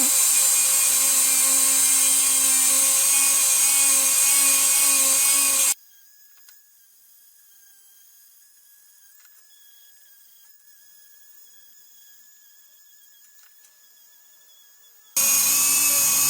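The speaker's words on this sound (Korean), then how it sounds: "이렇게 울퉁불퉁한 부분이 살짝 있으면 핸드그라인더 또는 사포로 살짝 갈아주시면 좋습니다." A hand grinder buzzing at a steady high pitch against the rough edge of a leather belt, loud and close, cutting off into near silence for several seconds before starting up again.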